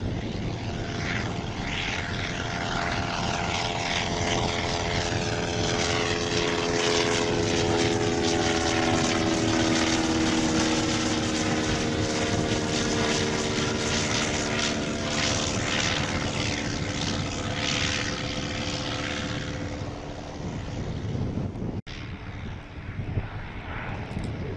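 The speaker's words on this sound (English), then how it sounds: "Listen to the Mercedes-Benz engine and see how it went." Vintage First World War aircraft powered by a Mercedes-Benz engine at a Shuttleworth airshow, its propeller drone loud and steady for a long stretch before fading as it moves off.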